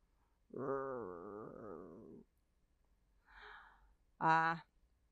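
A storyteller imitates a boy's growling stomach with her voice, giving a long wavering rumble followed by shorter vocal bursts, close and clear against silence.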